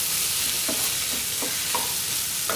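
Tomato pieces for a sandwich fry in a pan with a dense, even sizzle that runs throughout, close and steady, and a few soft stirring clinks come through the frying.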